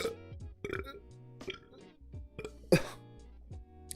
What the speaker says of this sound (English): That felt like throwing up, but it was burping.